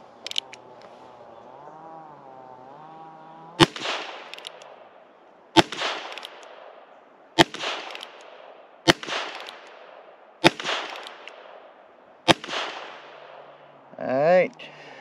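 Six sharp, loud gunshots from a Heritage Rough Rider revolver firing Federal rounds at a shooting range, spaced roughly two seconds apart with ringing decay, after a stretch of tonal background and ending in a brief burst of noise.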